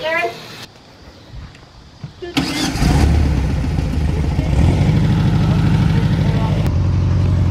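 A vehicle engine starts up and then idles and revs steadily, close and loud, before a wheelie, while people talk over the running motor.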